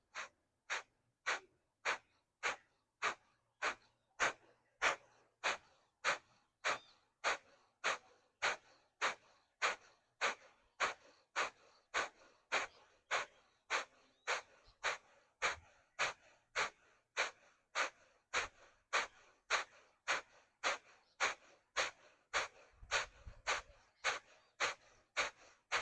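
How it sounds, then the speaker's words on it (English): Deep yoga breathing during a Kapalabhati practice, with rapid, evenly spaced forceful exhalations through the mouth repeating steadily for over twenty seconds, close and moderately soft, with no talking. "Long inhalation. Out through the mouth."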